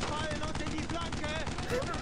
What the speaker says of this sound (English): What is that? That is anti-tank gun.